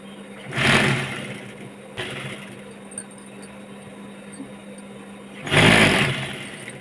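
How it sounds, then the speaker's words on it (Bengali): Electric sewing machine stitching the side seams of a cotton nightie, running in two short bursts at the start and end with a quieter pause of faint whirring between them, close to the listener. "এবার নাইটির সাইডগুলো সেলাই করে নেব।"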